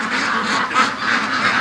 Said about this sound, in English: But the ducks went out bad here.